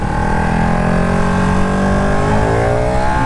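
A 2018 Ducati Panigale 1299R Final Edition engine revs hard and loud, pitch climbing steadily as the superbike accelerates under throttle, a continuous close-up engine roar.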